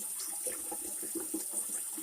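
Water runs from a tap into a large stock pot on a stovetop as it fills for a crawfish boil, a faint, steady splashing stream with no voices.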